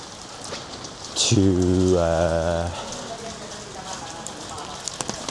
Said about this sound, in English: the rain just changes everything